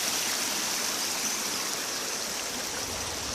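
A brook's stream runoff flowing down toward Glen Falls gives a steady, loud, broad rush of water, close by and unbroken, with no voices.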